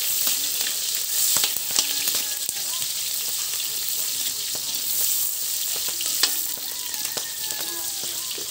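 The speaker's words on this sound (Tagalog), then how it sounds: "Gisa na natin yung ating sibuyas." Sliced onions sauté in a hot pan for Filipino beef steak Tagalog, giving a steady close sizzle with scattered crackles and pops and occasional stirring scrapes throughout.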